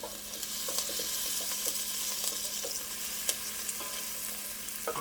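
Onions softening in a pan for a homemade Bolognese sauce, a bright, even sizzle with faint occasional stirring ticks, close and constant, no speech.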